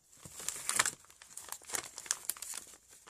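Paper envelopes being handled at close range, giving bright crinkling and rustling bursts of uneven rhythm over a few seconds.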